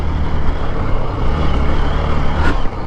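A Hero Xpulse 200 4V motorcycle rides in third gear, its engine a loud, steady low drone blended with wind and road rumble throughout.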